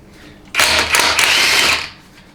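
A wrench works on 15mm bolts during a 4L60E transmission teardown, giving one brief burst of rapid ratcheting lasting just over a second, close and fairly loud, with no talk.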